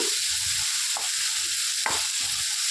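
Onions sautéing in a pan for a sweet pongal and sundal dish, a steady broadband sizzle with two sharp scraping stirs of a spoon against the pan, no voices.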